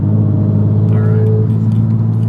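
A Toyota MK5 Supra with a custom MK4 Supra exhaust: a deep, steady engine rumble sits low and loud throughout, with a brief rising whine in the middle and no clear voices.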